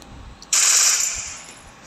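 A loud, close burst of video game gunfire starts abruptly and rings out for over a second, then slowly fades, with no voices.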